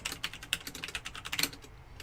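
Keys clatter in a quick, irregular burst on a Logitech G910 Orion Spectrum mechanical keyboard, with fairly quiet clicks close by and no talking over them.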